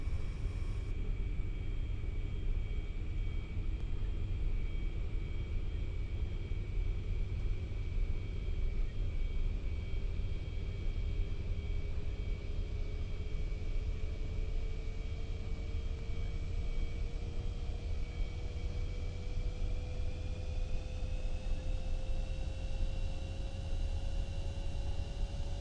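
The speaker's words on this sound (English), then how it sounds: "We'll fire up the APU" An airliner's auxiliary power unit spins up and runs on the ground, a steady loud rumble and whine whose tones slowly climb in pitch.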